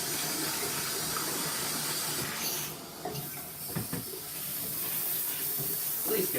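A shower head sprays water into a Giantex mini portable clothes washer to rinse out soap, a steady close rushing hiss of running water with a few soft knocks and clunks.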